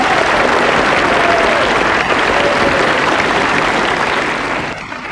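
Studio audience applause in a Thai mock-parliament comedy sketch, loud sustained clapping that fades toward the end.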